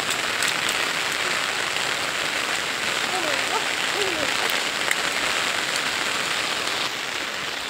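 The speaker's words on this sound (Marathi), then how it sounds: "पाऊस खूप जबरदस्त येतोय" Heavy rain drums steadily on a surface, a dense, unbroken hiss that stays loud throughout with only a slight drop near the end.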